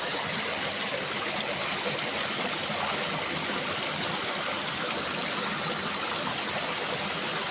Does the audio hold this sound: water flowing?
yes